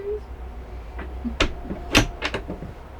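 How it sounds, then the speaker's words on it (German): Interior room door of a 2021 Hymer B780 B-class camper on a Mercedes-Benz Sprinter being swung shut, a few quick knocks and a latch click over a low background hum. "Ja, das ist eine Raumtür. Kann ich zumachen."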